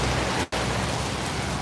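Steady broadband rain hiss from a downpour outdoors near parked tow trucks, continuous and fairly loud, broken by a brief dropout near the middle, with no talking.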